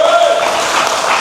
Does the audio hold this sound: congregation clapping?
yes